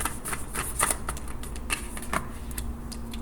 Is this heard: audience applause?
no